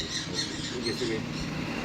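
Lovebird squawking, harsh bursts repeated under continuous background talk and noise, fairly close.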